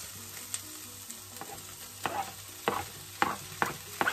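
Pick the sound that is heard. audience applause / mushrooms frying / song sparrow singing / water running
mushrooms frying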